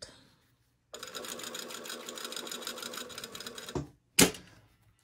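A domestic sewing machine stitches through printed dress fabric in one steady rapid run of about three seconds, stops, then gives a short final burst, with nobody talking.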